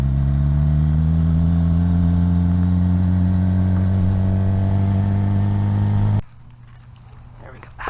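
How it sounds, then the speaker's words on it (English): A Suzuki GSX-R 750 motorcycle fitted with a turbo whistle exhaust idles and revs with a deep, loud, steady drone close by, then cuts off sharply near the end. "Kind of sounds like a turbo diesel down low."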